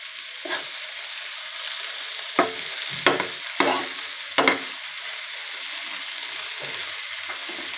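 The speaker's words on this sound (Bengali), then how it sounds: "আমি পেঁয়াজগুলো একটু ভেজে দিই নামানোর আগে।" Onions frying in a little oil, a steady soft sizzle broken by several sharp scraping stirs clustered in the middle, close and fairly quiet, with no voices.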